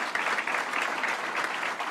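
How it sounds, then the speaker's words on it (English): Brief, steady applause from an audience at a public event, dense clapping at an even level with no voices over it. "So let's give a round of applause to Mayor Byron Brown."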